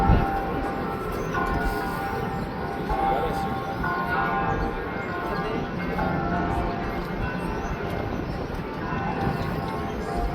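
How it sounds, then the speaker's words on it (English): Several church bells in Rome ring together at a distance, a steady overlapping clangor partly washed out by wind noise, with faint talk now and then. "So many church bells ringing at the same time."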